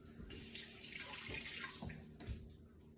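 Tap water runs steadily into a kitchen sink while carrots and cucumber are rinsed under it, a continuous close splashing hiss with a few brief louder splashes.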